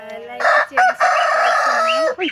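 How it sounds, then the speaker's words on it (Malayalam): A rooster crows loudly and close by, one long drawn-out cock-a-doodle-doo with a rising and falling call, with no talking. "കോഴി കൂവല്ലടാ"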